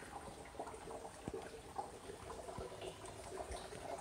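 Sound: rainwater from downspout filling rain barrels

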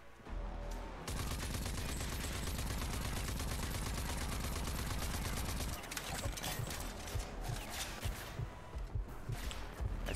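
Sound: enemy gunfire in video game Rage 2

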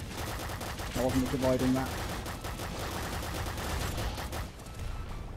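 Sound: gunfire in the video game Nuclear Throne

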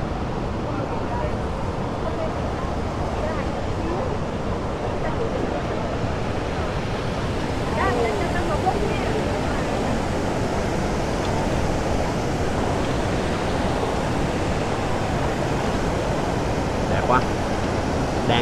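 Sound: Ban Gioc waterfall

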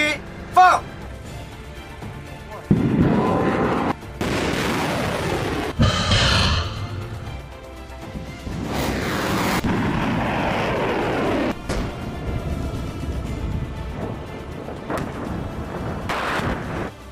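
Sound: long-range rocket artillery live-fire launch

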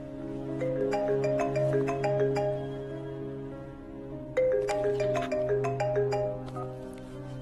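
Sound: phone ringing

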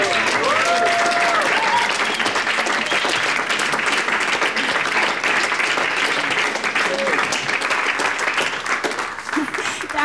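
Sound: audience applause after a song

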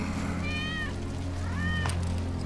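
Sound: cat meowing in the video game Final Fantasy VII Remake

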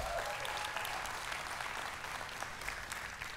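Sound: audience applause in church

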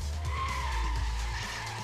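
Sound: car tires skidding in video game Street Legal

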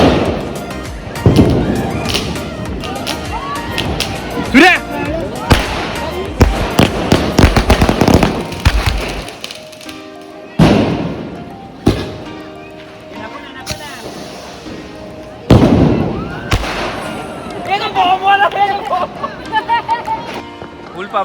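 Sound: firecrackers bursting at Diwali celebration

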